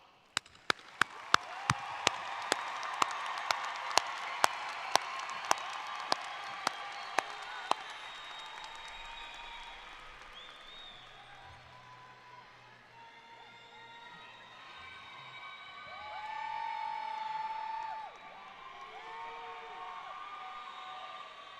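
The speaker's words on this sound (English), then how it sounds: "let's give the students a round of applause" Audience at a college commencement ceremony claps in unison with sharp, evenly spaced beats, then breaks into scattered applause, cheers and whoops that fade into murmuring crowd noise, with a later swell of cheering.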